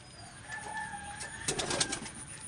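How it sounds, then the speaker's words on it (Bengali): A young Lal Doma pigeon squab coos softly and faintly at low level, with a brief rustle or flutter of movement partway through and no speech. "এই লালদমা বাচ্চা আছে, এটা একদম ফ্রেশ হয়ে যাবে এগুলো।"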